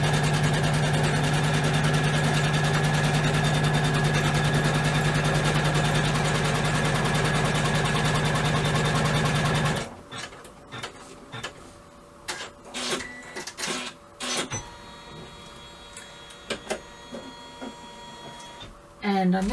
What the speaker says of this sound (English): the first thing I'm going to do is stitch the outline to show exactly where we need to place our fabric